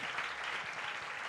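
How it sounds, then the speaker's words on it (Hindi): A church congregation claps loudly and continuously during a sermon, a dense, even burst of applause with no speech over it. "जोरदार तालियां अपने यीशु नाम के लिए"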